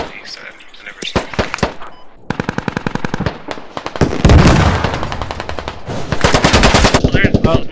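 Loud close-range automatic gunfire in the military shooter game Squad rattles in rapid bursts with heavier booming shots, while players talk over the combat.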